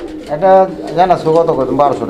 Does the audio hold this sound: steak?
no